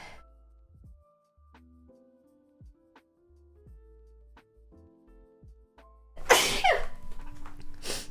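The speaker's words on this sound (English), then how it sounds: "I have successfully sneezed." A single loud, sudden sneeze bursts out near the end, following several seconds of soft, quiet tones, with a little breathy noise trailing after it.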